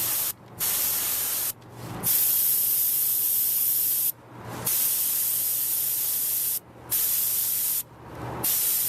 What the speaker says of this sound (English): Well, you saw what we did here with the airbrush